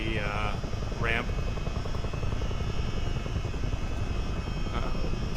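A CH-47D helicopter in a flight simulator game drones steadily in flight with a continuous rotor and engine hum. Short bursts of speech come through over the constant noise.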